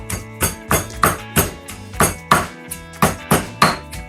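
Garlic pounded in a small stone mortar: a steady series of about a dozen firm, evenly spaced thuds, close and fairly loud, with no talk.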